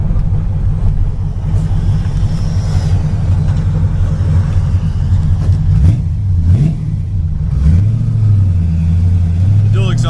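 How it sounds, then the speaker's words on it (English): A 1965 Chevrolet Impala Super Sport engine and exhaust accelerating through the gears, a loud deep rumble that rises in pitch, drops at a shift, then climbs again, heard from inside the car with someone talking. "Exhaust sounds great."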